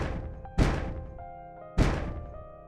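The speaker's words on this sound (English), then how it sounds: "The banging continued as the elevator doors started denting." Two heavy, resonant bangs strike metal elevator doors about a second apart, each loud and close with a ringing decay that fades before the next blow.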